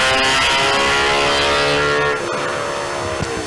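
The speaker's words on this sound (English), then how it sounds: "Here she comes. Driving like a woman's about to be married. Sophia Bacchini in the Proton Satria." A Proton Satria race car at a sprint event, its engine loud and close with a high, sustained droning whine that fades slightly as the car passes.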